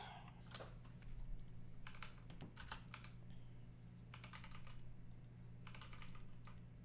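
Quick bursts of typing on a computer keyboard, key clicks coming in uneven clusters with short pauses, close but soft over a steady low electrical hum, no talk.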